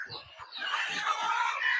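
Free-range village hens cluck and call softly at a distance, with faint bird-like chatter over a quiet farmyard background.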